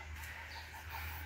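Chickens cluck faintly over a steady low hum on a Philippine farm, a short soft stretch of fowl sounds with no talking.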